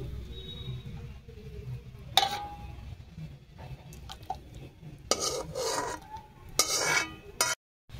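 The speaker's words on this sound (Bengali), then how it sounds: "বেগুন মহারানী হয়ে গেছে, একটা জায়গায় ঢেলে নিচ্ছি।" A cooked eggplant begun maharani dish is scraped out of the pan into a container: a quiet stretch, then bursts of close metal spoon scraping and clatter against the pan, ending abruptly.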